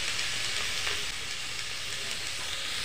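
Fish with turmeric and salt stirred in a frying pan, a dense, continuous bright sizzle and hiss filling the clip with faint scraping underneath, no voices.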